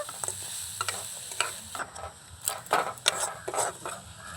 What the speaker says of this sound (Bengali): এইভাবে নাড়িয়ে চাড়িয়ে আমি পুরটা বানিয়ে নেব